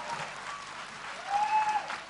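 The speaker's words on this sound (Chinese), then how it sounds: "再一次呢，给他掌声鼓励。" An audience claps for a four-year-old performer on stage, a short burst of applause that swells slightly toward the end.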